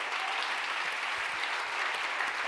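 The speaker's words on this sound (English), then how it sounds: "clearly they need a bloody big round of applause" Applause from a conference audience at a closing session: brief, steady clapping from a crowd, somewhat distant and even in level, with no speech heard.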